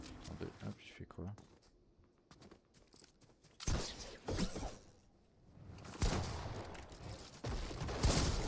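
Gunfire in the video game Fortnite Reload ranked: scattered bursts of shots and footsteps, then louder rapid volleys later, under excited French talk from players.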